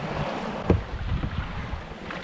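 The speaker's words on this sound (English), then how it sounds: "the sun's risen and the wind is howling" Strong ocean wind gusts at 25 to 30 knots during a sea kayak expedition, a continuous loud roar with buffeting bursts and wave wash, close and unbroken, with no talking.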